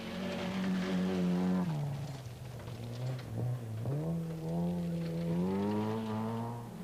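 Opel Astra GTE Group A rally cars at the 1986 Scottish Rally, with a loud, close engine note rising and falling as the cars rev hard and change gear along the stage.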